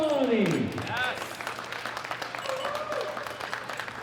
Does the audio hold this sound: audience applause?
yes